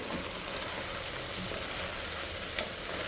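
Chicken pieces frying for biryani give off a steady, close sizzle and crackle with one brief sharper pop near the end and no voices.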